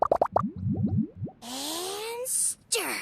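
Lizard tails, fish scales, mucus and slime condensate plopping one after another into a drink in Genshin Impact, a quick series of wet bubbly plops, followed by a bright whooshing fizz.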